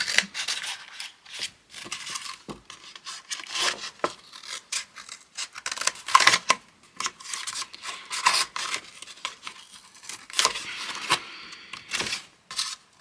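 Close scissors snipping and slicing through paper in irregular bursts, crisp rasping cuts with short pauses, no voices.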